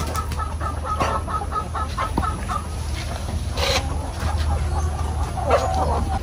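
Rooster clucking repeatedly in a farm setting, short throaty calls scattered over steady outdoor background noise, fairly close and loud, with faint voices nearby.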